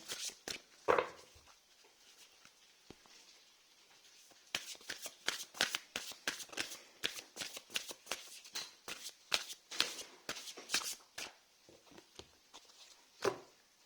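Tarot cards being shuffled for a reading: a long run of sharp, close riffling bursts and soft slides, sparse at first then quick and busy, with brief quiet gaps and no talk.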